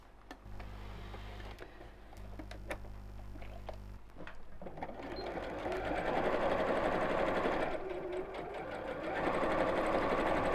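A domestic sewing machine stitches tote bag flap pieces together around three sides, running steadily with a continuous motor whir that grows louder and busier partway through, alone without talk.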